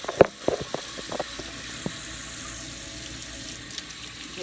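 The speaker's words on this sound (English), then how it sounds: "I'm just going to rinse them out." A kitchen faucet runs water over chili peppers held in a strainer, giving a steady close splashing wash with several sharp splatter bursts near the start, then settling into an even flow.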